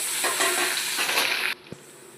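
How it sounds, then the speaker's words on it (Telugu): Cashews, dried red chilies and ginger fry in hot oil for a semiya dish. A loud, close, steady sizzle with stirring scrapes cuts off abruptly, followed by a single soft knock. "ఇందులో కొంచెం జీడిపప్పు, 2 ఎండుమిరపకాయలు వేస్తున్నాను. ఇవి కూడా బాగా వేగనిద్దాం."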